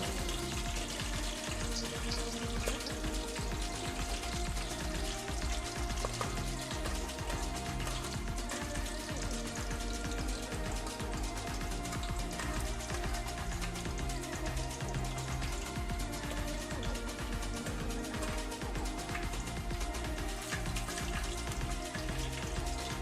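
Mustard seeds spluttering in hot oil alongside an onion-tomato paste for a mango-fish curry: a steady, dense crackle and fizz, close and low in level, continuing evenly without talk.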